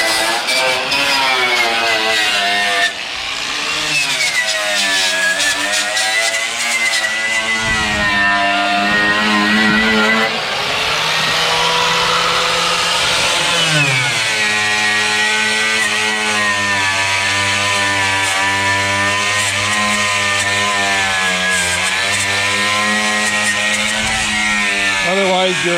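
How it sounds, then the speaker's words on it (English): Loud, continuous metal grinding on a 1962 Ford Falcon's bodywork near the radiator support to expose spot welds, the tool's pitch rising and dropping as pressure changes, running almost nonstop for the whole stretch. "Derek's just grinding where we have to drill spot welds"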